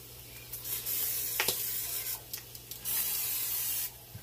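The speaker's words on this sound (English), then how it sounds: "I'm going to go ahead and spray." Cooking oil sprayed onto a Ninja Foodi waffle maker, several short hissing spray bursts of varying length, close and fairly quiet over a low steady hum.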